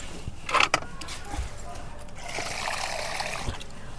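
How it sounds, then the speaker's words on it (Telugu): Water poured from a container onto young plants in a terrace garden, a soft splashing trickle that swells in the second half of the short clip, with faint handling knocks around it. "మొక్కలకి కూడానండి నీళ్ళైతే వేద్దాం"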